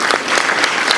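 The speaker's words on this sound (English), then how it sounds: "I think they deserve a round of applause." An audience applauds at a university faculty and staff awards ceremony, a brief burst of loud, close clapping with a few sharper individual claps standing out.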